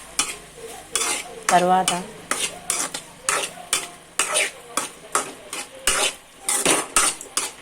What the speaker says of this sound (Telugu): చూడండి స్పూన్కి ఎలా కలుపుకుంటున్నాను అలాగే కలుపుకోవాలి.